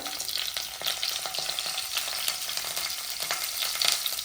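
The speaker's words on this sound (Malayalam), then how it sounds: "കടുക് പൊട്ടി വരുന്നുണ്ട്" Mustard seeds and chillies splutter in hot coconut oil in an iron cheenachatti, a dense, crackling sizzle with rapid pops that stays loud and close throughout.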